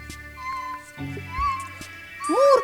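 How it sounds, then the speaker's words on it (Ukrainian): Pigeons coo in a low, continuous murmur outdoors near a coop, faint against a steady background hum, with a couple of sharp clicks. "Лише здалеку почулося тихе нявкання."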